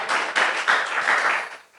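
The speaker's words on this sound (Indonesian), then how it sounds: "Tepuk tangan yang paling meriah bagi Tuhan kita" Church congregation at a Sunday worship service clapping together, a dense, sustained burst of hand claps in a reverberant hall that swells briefly and then tapers off toward the end.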